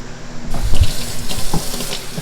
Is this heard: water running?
yes